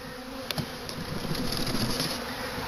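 A honeybee swarm buzzes around a hive box, a dense, continuous close drone with a few individual bees zipping past, and no talk.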